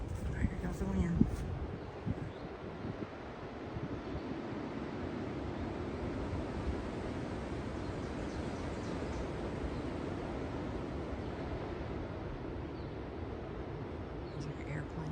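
Wind sweeps over a forested mountain ridge on the Appalachian Trail near Roan Mountain, making a steady, broad roar like a distant airplane that holds evenly throughout.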